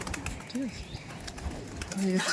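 Madrasi pigeons in a loft: a couple of soft, rising coos come through close by, with background noise and some indistinct talking.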